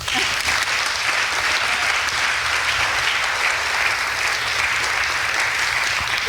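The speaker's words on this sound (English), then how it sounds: "let's get a round of applause for Beth and Beth." A roomful of people gives a sustained round of applause at a commissioning gathering, even and dense throughout with no break.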